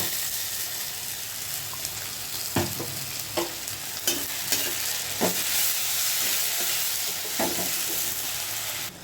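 Ginger, garlic, green chilli and tomato paste frying with onion in a pan for fish fingers gives a steady sizzle, broken by several sharp scraping stirs and spatula knocks at irregular intervals.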